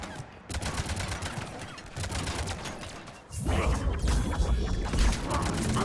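A Mass Effect firefight with dense sci-fi gunfire that rattles on steadily and grows louder and heavier halfway through, with a few faint voices underneath.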